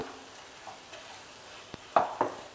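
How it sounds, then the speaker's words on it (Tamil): Lemon pepper chicken with butter and coriander is stirred in a pan, with soft sizzling and a few sharp spoon scrapes and clinks near the end. "இப்போ இது எல்லாத்தையும் மிக்ஸ் பண்ணி விட்டுக்கோங்க நல்லா."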